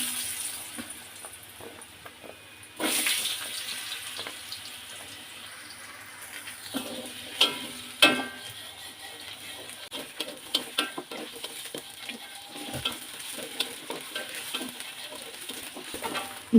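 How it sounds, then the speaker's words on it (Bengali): Cut potatoes frying in a pan after fish, with a steady soft sizzle under stirring clatter and a few louder scrapes and knocks; no talking. "আমি এখন কেটে রাখা আলুগুলো ভেজে নেব।"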